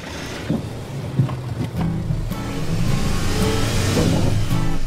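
A car engine revs hard with the handbrake on, the roar climbing after a couple of seconds and then holding a loud, sustained drone close by, with no voices.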